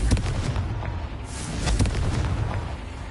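A Confringo blasting spell in Hogwarts Legacy on PS5 erupts in a dense, rumbling barrage of booming explosions with repeated sharp blasts over a continuous roar, loud and close.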